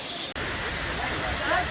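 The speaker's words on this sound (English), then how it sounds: "Amicalola Waterfalls in Dawsonville, Georgia." Amicalola Falls in Dawsonville, Georgia: the waterfall cascade roars loud and steady as broadband rushing water, heard from nearby on a bridge.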